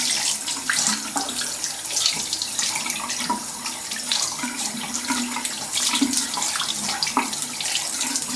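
Water runs steadily from a sink tap while an oil paintbrush is washed out, a constant close splashing rush that lasts the whole time with no talking.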